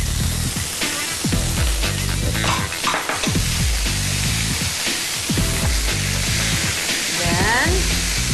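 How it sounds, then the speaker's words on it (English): Vegetables stir-fried in a pan give a steady, loud sizzle, broken by repeated scraping and clattering strokes of a utensil against the pan. "Stir fry the vegetables."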